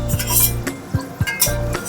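Fried cauliflower lifted from a pan before potatoes go in to fry, heard as close metal-on-metal scrapes and clinks of a utensil against cookware, a few quick strokes over a faint sizzle, no talking.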